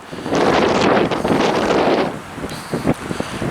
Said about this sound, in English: windy as